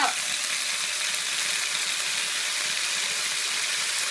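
Chinese kale and chicken stir-frying in a pan, a steady close sizzle and hiss throughout with faint scraping of stirring.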